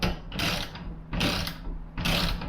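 A ratchet tightens roof rack mounting bolts in three separate bursts of quick clicking, each followed by a short pause, close and fairly clear.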